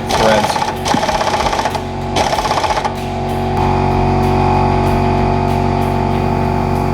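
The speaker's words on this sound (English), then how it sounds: "I put another coating of PB Gloss around them once I ran them with the air gun." Pneumatic air gun working rusty exhaust bolts loose on a Pontiac G8 GT V8: loud, rapid rattling hammer bursts in short pulses, then a steady mechanical whir and hum continuing to the end.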